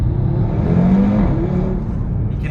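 A 2017 Audi RS3 8V2 engine droning loudly and close, with a brief rising rev in the middle before settling back to a steady roar.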